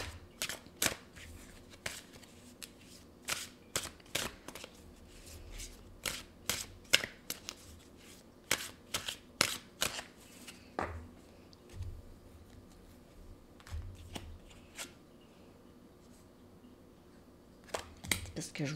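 Cards being drawn and shuffled from a witches' oracle deck, with soft, scattered flicks and snaps at close range, all fairly quiet.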